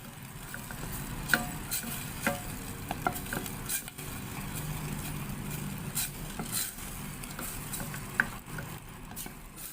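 Carbonara cream sauce for macaroni, with fried pork, coming to a boil in a pan gives a soft, steady bubbling sizzle with scattered light scrapes and stirring taps, fairly quiet and without speech.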